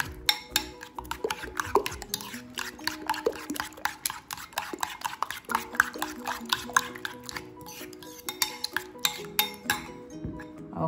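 A spoon clinks and scrapes repeatedly against a bowl while ground pork meatloaf mixture with breadcrumbs is stirred, a rapid irregular series of close, sharp taps with no voices.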